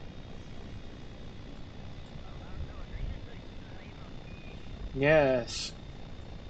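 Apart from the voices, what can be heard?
rotor craft engine throttling up, from the video game Kerbal Space Program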